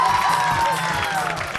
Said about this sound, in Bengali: দারুণ হচ্ছে, একটা হাততালি দেওয়ার জন্য।